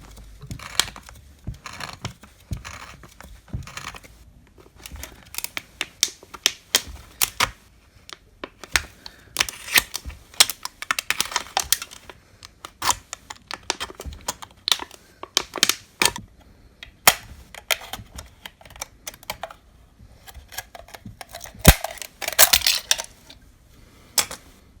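Sharp tool scoring and cutting through the thick base of an aluminium soda can for an alcohol stove, a long run of irregular crisp scratching and crunching clicks, close and fairly loud.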